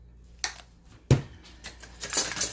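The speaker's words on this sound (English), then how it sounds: "So we're just going to stir this in." A spoon clinks and scrapes in a pan while Knorr beef bouillon is stirred in for a Salisbury steak dish, a few sharp metallic knocks followed by brisker scraping, close by with no talk.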